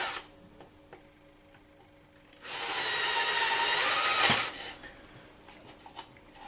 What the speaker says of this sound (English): At this point I may as well drill the clearance holes for the fixings for the indicator